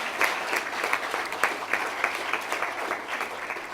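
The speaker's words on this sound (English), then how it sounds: "I think still a round of applause." Steady applause from a conference audience at the UCISA-SSG18 awards ceremony, a moderate, even wash of many hands clapping with slight rises and dips, no talking over it.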